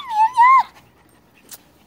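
A puppy gives a brief, high, rising-and-falling whimper, close and clear, followed by quiet with a faint soft noise.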